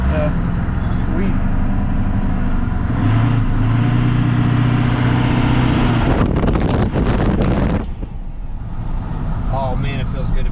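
An OBS Ford truck with a 7.3 diesel engine rumbles along on its first drive, with a steady engine drone and road and wind noise heard from inside the cab, while people talk over it.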